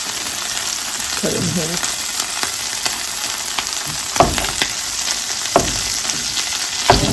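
Butter or fat melting in a hot pan for a fall soup, giving a steady close sizzle and frying crackle throughout, with a few louder pops and stirring clatters near the end and a brief spoken remark early on.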